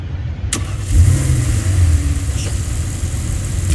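A car engine in Saints Row IV catches with a sharp click, then settles into a steady low rumble that swells briefly and keeps running, loud and close.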